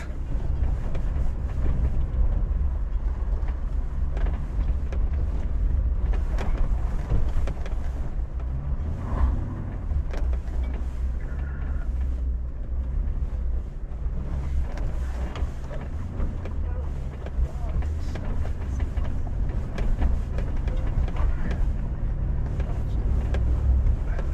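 An offroad truck's engine strains with a steady low rumble while driving a rough trail, mixed with wind buffeting and occasional bumps and rattles over about twenty-four seconds.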